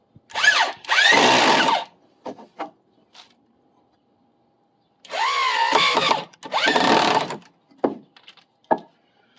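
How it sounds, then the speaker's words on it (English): A power drill chatters on a screw head it isn't properly seated in while repairing a deck, whirring in short, stuttering bursts, with a few clicks and knocks in the gaps between runs. "You hear the drill chattering like that, it means you're not in the head properly."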